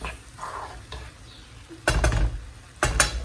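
White fish and peppers cooking in a pan are stirred, with faint sizzling and two louder scraping stirs near the end, close and without speech.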